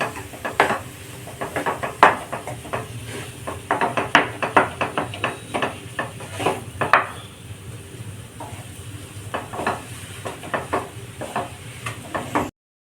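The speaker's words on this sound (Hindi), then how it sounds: "चला चला के आप इसको फ्राई करेंगे। मसाला अच्छी तरह से फ्राई होना चाहिए" Masala stuffing for stuffed capsicum stirred and fried in a pan, with repeated close scraping and clinking of a spoon against the pan over a low sizzle, irregular strokes throughout.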